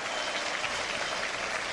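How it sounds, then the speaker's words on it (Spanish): An audience at a Networkers event claps in dense, continuous applause, loud and steady across the whole short stretch with no voices standing out. "Un aplauso espectacular para ellos."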